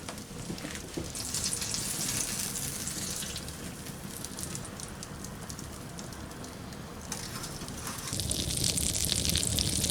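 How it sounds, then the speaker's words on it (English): Butter, a little under half a stick, melts in a hot pan for Welsh rabbit, giving a dense, continuous close-up sizzle and crackle that swells slightly toward the end, with no voice. "We'll add our butter, which is a little less than a half a stick of butter. We'll melt that down."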